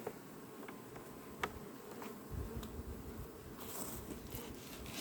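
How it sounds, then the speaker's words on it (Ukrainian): Faint buzzing of honey bees flying around a hive at a distance, a soft steady insect hum with a few brief sharp clicks in the background. "По прильотці не скажеш, бджола якась літає."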